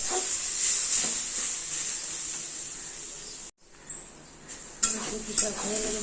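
Fish roe curry being stirred in a pan on the stove gives a steady sizzling hiss with soft scraping, broken by a brief silence and a few sharper clinks of a utensil against the pan.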